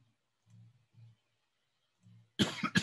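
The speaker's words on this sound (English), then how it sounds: "I don't know why I got a cough all of a sudden." A few short, low coughs spaced apart, followed by a louder, harsher burst of coughing or throat clearing close to the mic.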